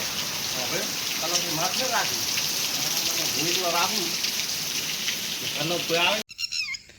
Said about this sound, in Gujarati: વરસાદના સોટા ચાલુ છે